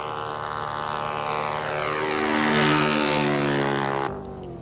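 A propeller airplane flying aerobatic spin maneuvers gives off a steady, buzzing engine drone that swells louder in the middle and then drops off abruptly near the end.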